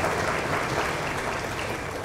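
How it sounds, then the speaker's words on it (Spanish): Audience at a professional association's membership ceremony applauds in a steady, moderately loud wash of clapping with no break. "Muchas gracias, un fuerte aplauso."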